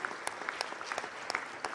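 A short burst of crowd applause in the ECOSOC chamber at a senior-level meeting, a continuous mass of hand claps with a few sharper individual claps standing out, steady throughout.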